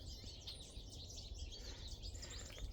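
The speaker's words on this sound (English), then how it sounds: "Can you hear all the birds?" Many birds chirp and tweet near feeders by a beaver pond, quick overlapping calls coming steadily from a little distance over a low outdoor rumble.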